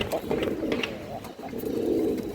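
A male pigeon coos close by, a low throaty warbling that swells and pauses briefly, fairly loud against a quiet background.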